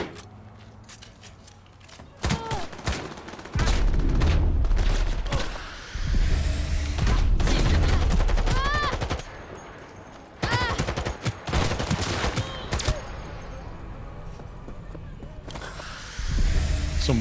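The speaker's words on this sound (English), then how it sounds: "Just having a straight up gunfight and you start throwing grenades around." A gunfight in the video game Cyberpunk 2077 fills the soundtrack with loud, dense volleys of rapid gunfire, sharp shot cracks and blasts from thrown grenades, in sustained bursts with short lulls.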